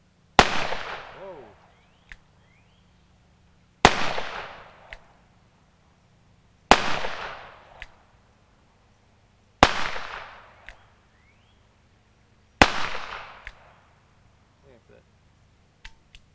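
Old neglected ammunition cartridges going off, five loud sharp cracks spaced about three seconds apart, each ringing out into a short decaying echo, with quiet gaps between.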